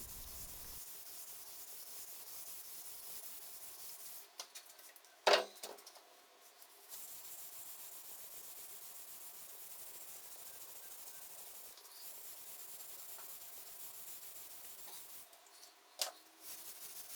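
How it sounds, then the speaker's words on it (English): Scotch-Brite and water scrubbing the metal table of a Rockwell MD21-120 milling machine under restoration, a soft steady rubbing hiss that continues throughout with a few brief knocks. "just leveling out all of the surfaces so it looks more uniform with the Scotch-Brite"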